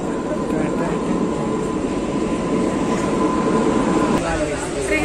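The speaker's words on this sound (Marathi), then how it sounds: "ट्रेन आली आता आमची." Steady low rumble of an arriving train at a station, continuous and fairly loud, with people talking nearby.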